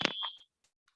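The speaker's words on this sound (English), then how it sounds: "as soon as the object moves near it, it will buzz" An ultrasonic sensor's buzzer sounds a single short, sharp electronic beep up close as an object moves near it, followed by near silence with a couple of tiny ticks.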